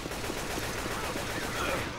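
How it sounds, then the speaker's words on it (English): Rapid gunfire crackles throughout a firefight in Left 4 Dead 2, a dense continuous stream of shots at moderate loudness with faint voices mixed in. "Can we not shoot each other?"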